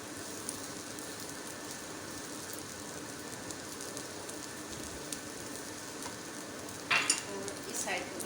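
An aloo paratha fries in ghee on a griddle, a gentle steady sizzle throughout, with a brief louder burst of crackling and scraping near the end.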